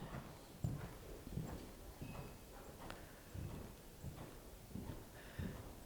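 A dressage horse's hooves clip-clop in a steady rhythmic beat as it moves into trot in an arena, moderately distant and fairly soft, with no talking over the footfalls.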